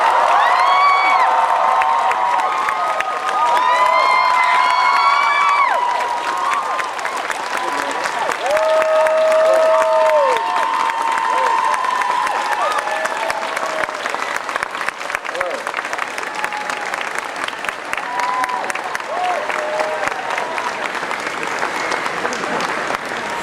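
Loud applause, cheering and whoops from a large convention crowd at Dragoncon greet Leonard Nimoy, lasting throughout with shouted voices and chatter mixed in.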